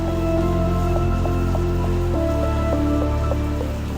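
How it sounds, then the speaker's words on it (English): Heavy rain drumming steadily on a car during brake testing of a Polestar Precept, a dense continuous patter over the low hum of the vehicle, loud and close with no talk. "So with the rain, maybe are we going like into the rain now?"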